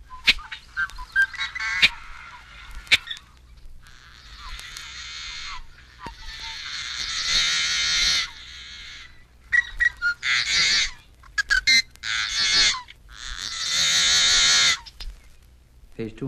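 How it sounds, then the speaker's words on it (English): Yellow-headed blackbird song: harsh, buzzy, rasping bursts with a few clicky notes, repeated in several loud phrases with brief gaps, close and without voices. "yellow-headed blackbird."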